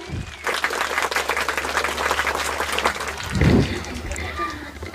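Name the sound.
audience applauding students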